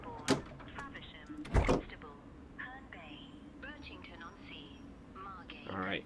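Doors on a Thameslink Class 700 train close in a train simulator game, with a couple of sharp thumps and a sliding clunk as someone talks throughout.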